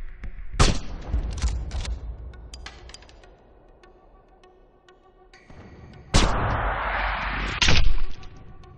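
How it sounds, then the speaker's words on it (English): Gunfire in Sniper: Ghost Warrior 2: two bursts of loud, sharp shots, the first near the start with a few echoing cracks trailing off, then a second heavy volley about six seconds in. "shots fired. Up high to the right."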